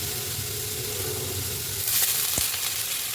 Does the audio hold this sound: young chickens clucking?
no